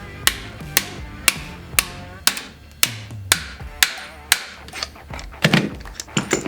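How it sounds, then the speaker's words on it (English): Star nut being hammered into a bicycle fork steerer tube: about a dozen sharp metallic strikes in steady rhythm, close and loud, the last few quicker and more muffled. "Hammer it in"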